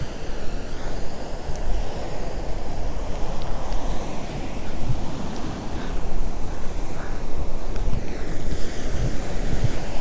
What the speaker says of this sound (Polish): Jest i ocean.